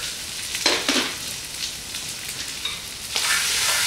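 Flour cooking in hot grease for a green chili gumbo roux, giving a steady close sizzle with a few brief louder bursts as the mixture is stirred, and no talking.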